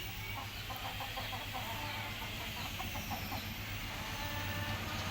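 Native hens and a rooster on a small village farm cluck in short repeated bursts at middle distance, over a steady low hum and faint background noise.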